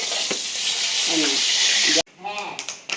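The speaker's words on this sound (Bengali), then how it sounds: "এখানে মাছ ভাজছে" Fish fries in a pan at an outdoor picnic cooking session, giving a loud, bright sizzle for about two seconds under someone talking, then cutting away to speech with scattered clatter.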